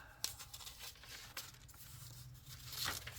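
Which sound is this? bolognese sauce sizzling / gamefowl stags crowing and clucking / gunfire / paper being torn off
paper being torn off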